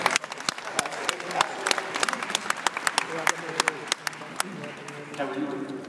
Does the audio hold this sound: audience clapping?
yes